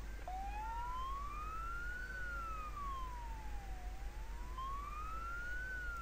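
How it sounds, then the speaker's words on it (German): Ambulance siren in the Emergency 4 rescue game, a single wailing tone that sweeps slowly up and down twice, fairly faint over steady background hum. "Da ist schon unser Krankenwagen."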